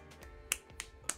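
Three sharp, bright snaps or claps spaced about a quarter second apart, close and fairly quiet, with no talking, given as claps for Himiko during a Danganronpa V3 Killing Harmony playthrough.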